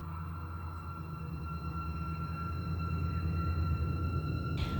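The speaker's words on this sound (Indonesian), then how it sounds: "ada deru mesin kereta dengan decit rodanya yang bergesekan dengan bantalan rel besi" A train rumbles steadily past on iron rails, a heavy continuous engine roar with high sustained metallic wheel squeals ringing over it and growing slightly louder toward the end.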